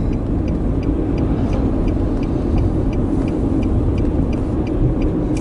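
A 2013 Nissan Sentra with a slipping CVT transmission, heard from inside while driving as a loud, steady engine and road drone with faint regular ticking and no talking.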